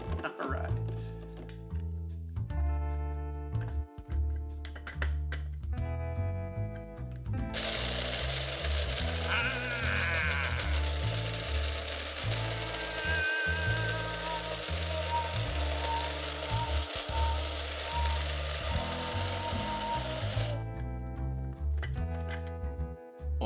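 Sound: grinding coffee beans

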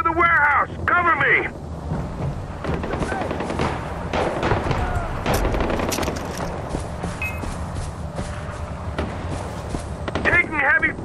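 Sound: heavy gunfire in the video game Far Cry 4

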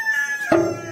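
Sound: rooster

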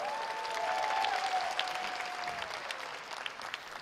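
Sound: audience applauding a band

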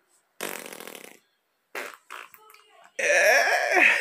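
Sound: fart sound

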